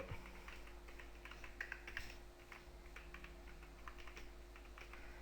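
Steady keystrokes clatter on a computer keyboard, quick and uneven in rhythm, close by over a faint background hum.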